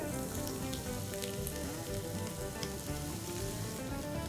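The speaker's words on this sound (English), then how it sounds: "let's add some green chillies, not much, little bit, and to which we'll now add the potato" Potatoes and green chillies frying with soft onion in an Indian pan, a dense, even sizzle that holds steady and close for several seconds without talk.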